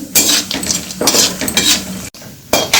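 Coconut roasted in a pan for sweet laddus, heard as loud, close stirring with repeated metal scraping and clinking of spoon against pan over a light sizzle, with a brief pause near the end.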